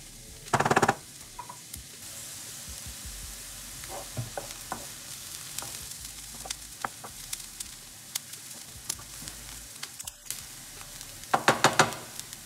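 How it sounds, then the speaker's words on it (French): Onions fry in oil in a pan for beef samosa filling, giving a low, steady sizzle broken by sharp clattering bursts of a utensil stirring against the pan near the start and the end. "Je mélange pour que les oignons soient bien enrobés d'huile."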